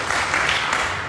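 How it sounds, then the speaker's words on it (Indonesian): Church congregation applause in an Indonesian worship service, a brief burst of many hands clapping together, fairly loud and dense. "Beri tepuk tangan dulu yang meriah buat Tuhan"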